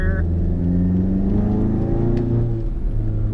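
MK7 Volkswagen GTI with a Cobb Stage 3 tune and catless downpipe driving, a steady droning engine note close up as it accelerates, pitch shifting slightly as revs change.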